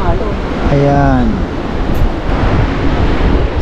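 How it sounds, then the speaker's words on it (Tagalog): Big ocean waves surge and wash in a constant loud roar with heavy wind noise, while a voice speaks briefly over the surf near the start. "Pero ang lalaki ng alon."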